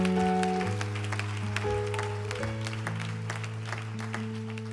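A church congregation applauds the Lord, with scattered clapping running under sustained organ or keyboard chords that hold and shift throughout.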